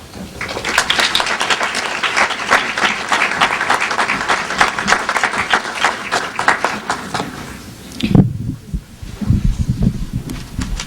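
A large graduation-ceremony audience applauds steadily and loudly for about eight seconds as the dean is welcomed to the podium, then the clapping dies away into scattered claps and low murmuring.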